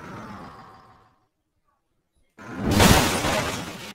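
A truck crashes into water and breaks apart in the BeamNG driving simulator, with a loud burst of shattering, crunching impact noise arriving after a brief silence and a fading rumble before it.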